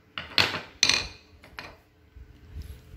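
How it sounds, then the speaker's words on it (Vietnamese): A Yamaguchi claw hammer is picked up and handled, giving a few sharp metallic knocks and clinks in quick succession, close and fairly loud, then quieter shuffling. "24 cái búa đinh của Yamaguchi này."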